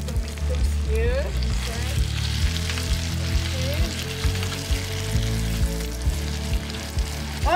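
Grated tomatoes hit a hot pan for menemen and fry with a loud, steady close-up sizzle, broken by occasional soft knocks of stirring.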